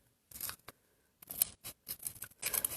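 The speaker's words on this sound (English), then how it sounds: "First, I got my scissors. So, Linocut, all you do is just cut it out." Scissors snipping through linocut material in a few short separate bursts of crisp, close cuts with brief pauses between them.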